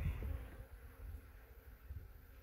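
Honeybees buzzing on a frame lifted from a hive during an inspection to correct a laying worker colony, a close, continuous low hum with slight swells and no voices.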